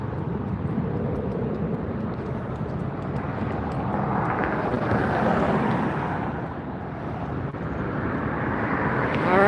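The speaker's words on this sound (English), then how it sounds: "This is the SAS, Scandinavian Airways A350-900 coming in from Copenhagen." Scandinavian Airways Airbus A350-900 inbound from Copenhagen on final approach into Los Angeles, a steady broad jet roar with wind buffeting that dips slightly midway, then swells again near the end.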